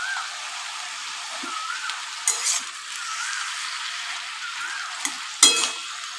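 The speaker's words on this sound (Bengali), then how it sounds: "এবার এই যে রাঁধুনি আর আদা বাটাটা আমি এর মধ্যে যোগ করে দিলাম।" Radhuni and ginger paste fry in a pan for bottle gourd shukto, giving a steady, close sizzle broken by a few sharp clinks and scrapes of stirring.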